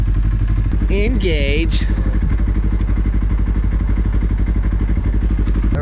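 A 2014 Polaris RZR 1000 UTV engine at the start of the Parker Dam 500 desert race, a loud, steady, close-up engine drone with rapid pulsing throughout, while a voice speaks briefly over it.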